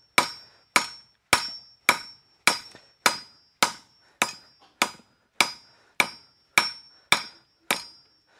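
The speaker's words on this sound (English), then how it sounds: "Just working over the anvil, just fuller it out, stretch out the stem a bit." A hammer strikes steel angle on an anvil while fullering out the stem, fourteen sharp ringing metallic blows at a steady rhythm about every half second, each decaying quickly, close and alone.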